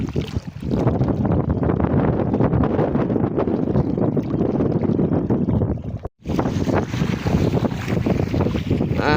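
Strong wind buffets and roars across open sea off the coast, with steady rushing gusts and microphone wind noise, briefly dropping out before resuming loudly.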